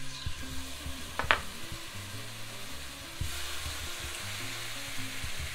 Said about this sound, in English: I allow the steaks to cook for 3 to 4 minutes to get a nice sear before flipping.